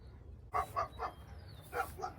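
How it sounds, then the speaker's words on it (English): A dog barks nearby in a quick series of five or six sharp, moderately loud barks, spaced irregularly over a quiet background. "Oh, here comes a dog."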